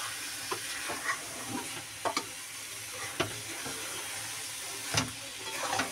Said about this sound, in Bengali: তোমরা এগুলো নাড়াতে থাকবে, নাহলে নিচে দিয়ে লেগে যাবে।